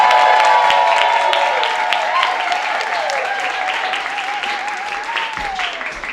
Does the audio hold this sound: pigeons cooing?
no